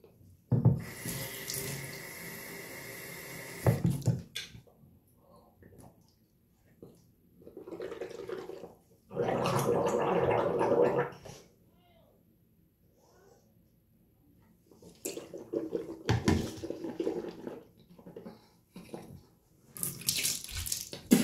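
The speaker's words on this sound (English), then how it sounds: "now I gotta put water in my mouth, spit it out" After tooth brushing, a bathroom tap runs in three separate bursts of splashing water, close and fairly loud, with quiet gaps for rinsing the mouth and spitting between them.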